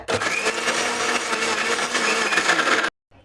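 Ginger pieces and garlic cloves whirring in a mixer grinder cup, a loud steady whine with rattling chunks lasting under three seconds before cutting off abruptly.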